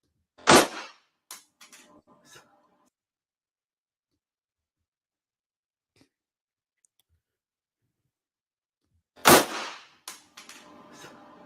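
Two sharp, loud gunshots about nine seconds apart, each trailed by brief clattering echoes, with near silence between them and no talking.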